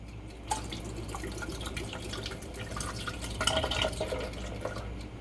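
Evaporated milk pours and splashes into a container close by, a continuous trickling stream with light dripping and gurgles.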